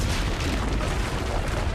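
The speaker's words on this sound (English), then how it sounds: "Use the cannons above the rampart." Cannons fire from a rampart in the video game Assassin's Creed Brotherhood, a dense, loud rumbling boom that fills the moment with heavy low-end blast.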